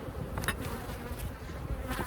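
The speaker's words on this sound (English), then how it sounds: "there's still a lot of bees in here" Honey bees buzz steadily and close up on a hive frame heavy with honey, pollen and nectar during a bee yard inspection, a dense continuous drone with no talking.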